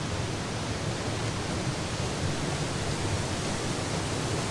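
Waterfall in the adventure game Syberia: The World Before, a loud, steady rushing roar of falling water that stays constant with no talking.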